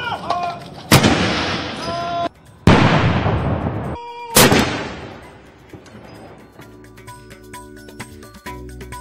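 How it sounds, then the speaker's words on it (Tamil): Ceremonial artillery cannons fire a salute for the new King Charles in London, three loud booming blasts a couple of seconds apart, each trailing off in a long rolling echo, followed by quieter background clatter. "பீரங்கி குண்டுகள் முழங்க புதிய மன்னருக்கு மரியாதை."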